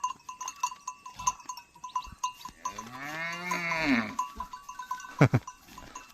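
A long, low moo from a nearby buffalo or ox rises and falls, with light clatter around it and a short, sharp animal call just after.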